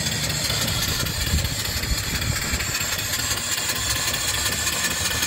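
A live steam engine fed by an off-grid boiler runs steadily with a dense, continuous rushing and chuffing noise. It stays loud and even throughout, with no voices.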